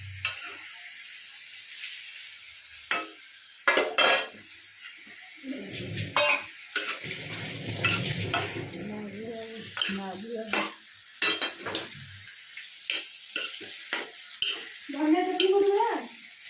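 Cauliflower frying and being stirred in a pan, with intermittent sizzling bursts, spatula scrapes and metal pan clatter near at hand, while people talk in the background.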